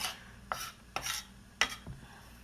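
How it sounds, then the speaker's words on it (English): A chef's knife mincing zucchini and squash with salt on a cutting board gives three sharp scraping chops spaced about half a second apart, close and fairly loud, with no talking. "Run my knife through it a little bit more."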